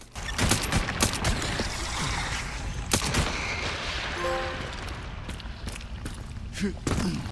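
Gunfire from the survival horror game Resident Evil Requiem while shooting a plant creature boss, with repeated sharp shots and bursts over a continuous rumbling background, spread out across the whole stretch.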